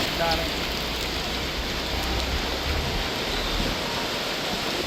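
Heavy rain pours on a city street in Nadiad, a dense, unbroken roar of drops hitting surfaces, loud and steady throughout.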